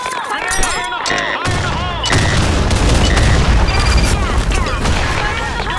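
Grenade explosion in the shooter game BlackShot, a deep booming blast that swells from about two seconds in and rumbles on loudly, layered with game gunfire and an in-game voice calling out.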